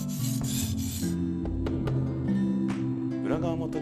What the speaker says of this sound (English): If you try to sharpen the heel of the blade in the normal way, the handle will hit the whetstone.